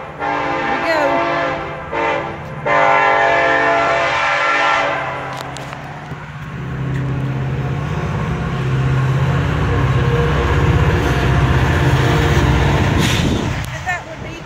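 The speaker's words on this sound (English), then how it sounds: "And that would be the train that always comes on my videos when I'm trying to record." A train passes close by, sounding its horn in long, loud blasts over a heavy rumble of cars on the rails, with a person talking intermittently.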